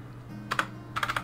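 Two short bursts of computer keyboard keystrokes, a pair and then a quick run of four, clicking sharply over a low steady hum, with no voices.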